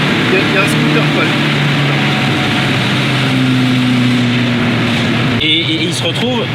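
Scooter engine running nearby in Maranello, a steady droning hum whose pitch shifts partway through, heard under continuous talking.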